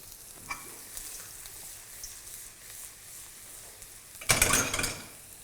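Ginger and garlic sweating in a pan give a faint, steady sizzle, then a brief louder burst of frying and stirring near the end, close by and with no talk.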